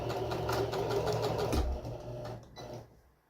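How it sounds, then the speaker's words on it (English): A sewing machine runs steadily as it stitches across fabric, a close, continuous motor whir that slows and trails off toward the end. "And stitch across."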